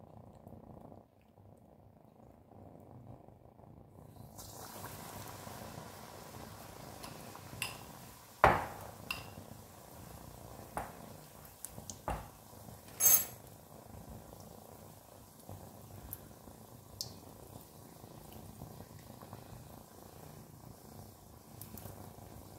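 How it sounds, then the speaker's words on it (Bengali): Potato cheese fritters hit hot oil and settle into a steady, soft sizzle that runs throughout, broken by a few sharp clinks of a utensil against the pan. "এবারে আমি তেলের মধ্যে এটা দেবো"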